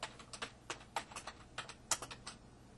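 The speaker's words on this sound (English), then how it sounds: "we start typing warnings" Search terms typed on a computer keyboard, a quick irregular run of close, crisp key clicks with short pauses between bursts, heard alone.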